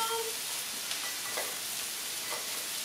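A sauce of soy, hoisin and peanut butter being stirred in a hot pan, with steady close sizzling and a few soft scrapes of the spoon, and no talking.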